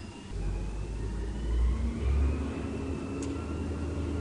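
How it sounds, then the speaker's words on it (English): A garbage truck passes outside a recording room, a muffled low engine rumble that swells and fades over a few seconds, distant and moderately loud with no voices. "Looks like we got a garbage truck coming."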